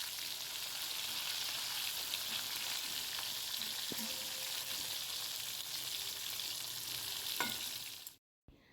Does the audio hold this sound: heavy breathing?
no